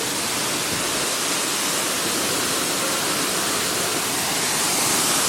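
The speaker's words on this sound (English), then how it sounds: "We're going to get in the waterfall." Roaring Ulu Petanu waterfall, a loud, steady broadband rush of falling water that holds constant throughout with no voices over it.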